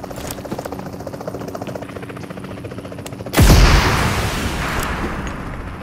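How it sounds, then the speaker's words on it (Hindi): Helicopter in the PUBG Mobile game, a low beating rotor drone under gameplay noise that erupts into a loud broadband roar midway, staying close and sustained to the end. "हेलीकॉप्टर आया"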